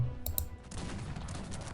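Cannon fire in the video game Cossacks 3: a couple of sharp, loud bangs near the start, then a steady rumbling, crackling din of battle noise that carries on to the end.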